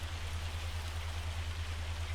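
Hail pelting down in Farming Simulator 25, a steady dense patter with a constant low hum beneath it, loud and unbroken throughout.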